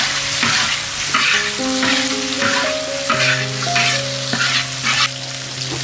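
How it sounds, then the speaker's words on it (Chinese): Squid stir-fried hard in a wok with scallion, ginger, garlic, chili bean paste and red chili oil, a loud continuous sizzle and frying hiss with scraping stirring, steady throughout and without talk. "咱给它鱿鱼放进去爆炒"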